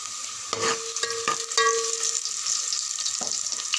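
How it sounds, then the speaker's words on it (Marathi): Onions fry in four spoons of oil for a home-style cauliflower, pea, potato and paneer curry, with a steady close sizzle broken by several sharp stirring scrapes and clinks of a spoon against the pan. "कांद्याला मस्त ब्राऊन फ्राय करून घेऊया"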